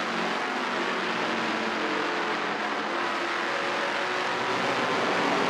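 ARCA Racing Series stock cars race on the track in a 2018 event, a loud broad steady roar of engines blending into continuous noise from a distance, without voices.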